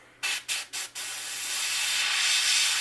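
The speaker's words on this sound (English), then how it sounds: "And let's get spraying." Airbrush or spray can coating a crankbait fishing lure: three short hissing bursts, then one steady, gradually louder spray held close, no talk.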